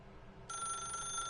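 A telephone in the video game The Stanley Parable starts ringing partway through, a bright electronic bell tone that cuts in abruptly after a quiet moment and holds steady.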